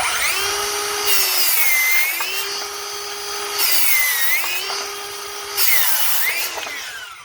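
Kobalt X.T.R. or Ryobi brushless circular saw spun up three times, each a loud whirring whine rising to speed and winding down between bursts, close and without talk.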